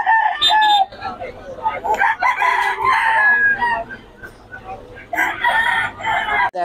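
A young gamecock stag crows repeatedly at close range, its strained calls coming in several bursts among other roosters, with someone talking faintly in between.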